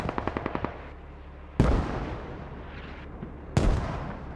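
Gunfire and mortar impacts in the tactical shooter Squad: a quick burst of machine-gun shots, then two loud, booming explosions about two seconds apart, each followed by a long rumbling decay.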